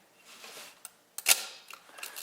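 A Nikon Nikkormat FT2 film camera's shutter fires once at 1/250, giving a sharp mechanical snap with a short rattle, close and alone against quiet room tone.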